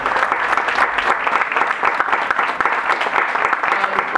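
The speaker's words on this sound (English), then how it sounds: "let's start off by giving yourselves a big round of applause" An audience applauds at the Immigrant Heritage Awards ceremony in Queens, New York: dense, loud, sustained clapping from a crowd that holds steady for several seconds.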